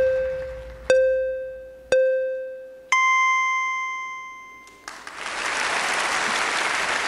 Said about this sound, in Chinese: 首先谢谢朋友们热情的掌声